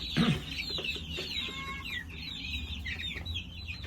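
Young Plymouth Barred Rock chicks about a month old cluck and chirp in a coop, several overlapping close calls with soft peeps over a low background rumble.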